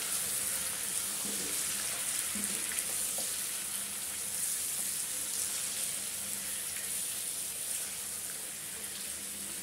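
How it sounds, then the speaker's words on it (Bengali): Marinated chicken frying in a pan for biryani, an even hissing sizzle that holds steady throughout with faint occasional stirring knocks. "আর বাকিটার মধ্যে আমি যে মাংসটা ম্যারিনেট করে রেখেছিলাম এই মাংসটা দিয়ে দিই, ভালো করে আমি কষিয়ে নিচ্ছি"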